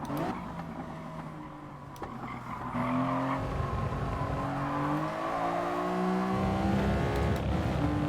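A race car in Gran Turismo Sport runs wide at Brands Hatch on worn tyres, its engine droning steadily before tyres squeal and skid in long rising whines over the revving motor.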